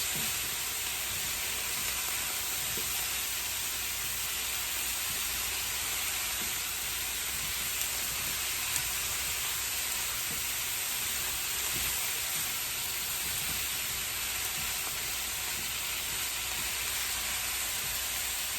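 Garlic sizzling in a hot home hibachi-style pan, a steady, soft, continuous hiss and crackle with no talking.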